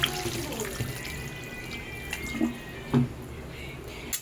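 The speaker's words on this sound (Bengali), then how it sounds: "এবার আমি এতে পরিমাণ মতন জল দিয়ে দেব, যতটা পরিমাণ আমি ঝোল রাখতে চাইবো।" Water poured into a pan for a thin Bengali bata fish curry, a steady splashing trickle close by with a few louder gurgles and drips.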